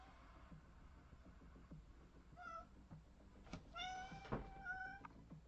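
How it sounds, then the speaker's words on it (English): A cat meows several times from the hallway, the calls moderately close and rising in pitch, spaced over a few seconds above a low background hum with scattered knocks. "I can hear him in the hallway again. Meowing away."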